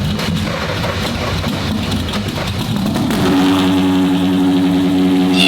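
A Ferrari F12 twin-turbo engine fires up close and loud, a dense churning start that settles into a steady, throbbing idle.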